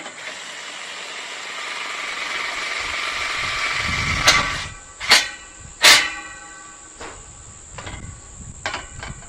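A screw being driven to fix a hinge onto a swimming pool safety gate, heard as a steady whirring drone with several sharp clicks and knocks partway through, close and fairly loud.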